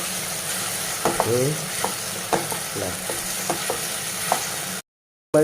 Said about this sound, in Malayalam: ഒരു പച്ചമുളക് കുറച്ച് കറിവേപ്പില എല്ലാം കൂടെ ഇട്ടിട്ട് നന്നായിട്ട് ഇളക്കി കൊടുക്കണം